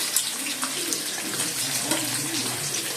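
A kitchen tap runs steadily and loudly into a sink while raw chicken is washed, a continuous close splashing rush with faint clinks and no talking.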